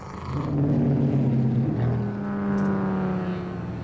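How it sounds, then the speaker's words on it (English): Several sports race cars at Road Atlanta's 1997 Speedvision Cup roll into pit lane, their engines droning loud and close in a steady, harmonic-rich rumble that swells and shifts pitch as the cars pass. "Cars, we're watching a number of cars making their way in."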